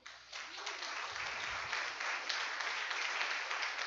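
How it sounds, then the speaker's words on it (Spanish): A church congregation claps together for several seconds during a Spanish-language worship service, a dense, steady patter of many hands at moderate distance with almost no voices over it. "Dele un aplauso al Rey."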